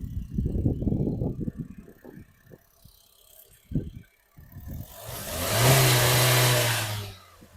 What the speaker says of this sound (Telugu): సైలెంట్గా ఉందండి ఇంజన్ కూడా.